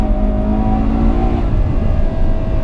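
Ferrari 812 Superfast V12 driven hard on the Fiorano track, a loud close engine roar with a sharp shift partway through as the pitch drops and builds again.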